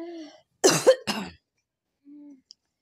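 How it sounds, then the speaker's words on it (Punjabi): A person coughs two or three times in quick succession, close and clear, between short stretches of near silence with a faint hum. "ਖਾਂਸੀ ਆਉਣ ਲੱਗ ਗਈ।"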